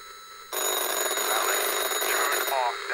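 A telephone in the horror game Anthology of Fear bursts into loud, shrill, continuous ringing that starts abruptly and holds steady, with a voice talking over it.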